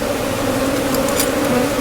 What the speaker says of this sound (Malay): Lebah banyak menyorok belakang ni.